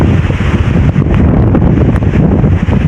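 A swollen river rushes during a typhoon, a loud, continuous roar of churning floodwater mixed with heavy wind buffeting the microphone, steady and close throughout with no talking.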